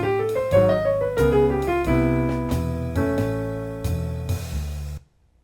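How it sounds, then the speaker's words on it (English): Fast double-time jazz solo over a backing track at 90 beats per minute, a brisk stream of crisp melodic notes above chords and bass, loud and near, ending abruptly in silence with no voices. "let's bump it up to 90"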